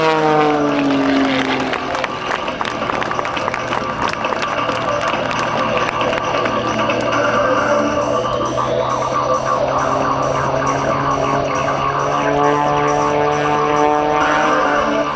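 A 400-horsepower propeller aerobatic plane at an airshow roars continuously, its pitch sliding up and down as the aircraft maneuvers, with a crowd faintly audible underneath.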